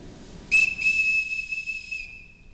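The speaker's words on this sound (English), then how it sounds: "Everyone in this house answers to a whistle." A single sharp, sustained whistle blast rings out clearly to call a household together, starting loud and holding steady for about a second and a half before fading, with no voices over it.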